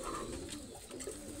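Large Pakistani pigeons coo softly in a loft, a low continuous burbling with a couple of rising calls over faint background noise.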